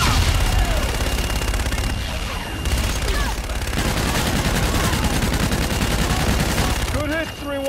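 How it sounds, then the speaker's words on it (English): Aircraft gun run strafing in Call of Duty Infinite Warfare on Xbox One, a dense roar of rapid gunfire and explosive booms lasting throughout, with radio voices talking over the barrage. "Roger, inbound for gun run. Guns, guns, guns!"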